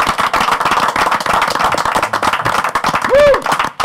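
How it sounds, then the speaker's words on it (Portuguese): Audience clapping at a Tumba gathering, a brisk burst of close handclaps filling the whole moment, with a brief whistle-like squeal near the end. "Aqui, um aplauso."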